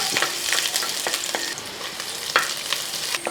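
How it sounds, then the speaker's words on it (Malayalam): Chopped garlic and ginger crackle loudly in hot oil, close up. Quick scraping stirs and sharp spatters sound over the brisk, continuous sizzle. "ഇനി ആ എണ്ണ അത് ചൂടായതിന് ശേഷം ഇതേപോലെ ഒരു അഞ്ചാറ് വെളുത്തുള്ളി ഒരു കഷ്ണം ഇഞ്ചി അരിഞ്ഞതും അങ്ങോട്ട് ആദ്യം എടുത്ത് കൊടുക്കാം ഇളക്കി"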